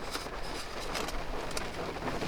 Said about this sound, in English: So it's raining like crazy.